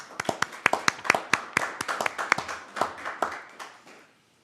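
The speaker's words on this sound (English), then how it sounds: "Let's clap." A small group claps at a city council work session, a short burst of sharp, close hand claps with uneven rhythm that thins out and stops after about four seconds.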